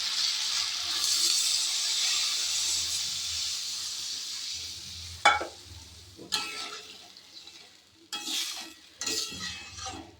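Water poured into a sizzling pan of braised curry with potatoes gives a loud, steady hiss for about five seconds, followed by several sharp metallic clinks of stirring.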